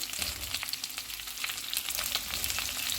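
Chopped onion and capsicum frying in a hot pan for chilli chicken, giving a steady, close hiss of sizzling oil with small crackles throughout and no voices.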